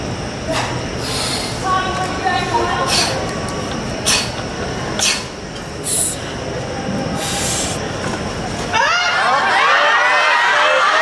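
A crowd applauds and cheers at a powerlifting deadlift meet, a loud, continuous roar of clapping with louder surges, shifting near the end into a different mix of crowd noise.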